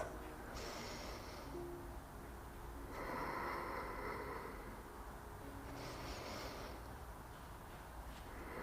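Slow, deep yoga breaths sound close and quiet, three long airy inhales and exhales spaced a few seconds apart over soft background hiss, with no talking.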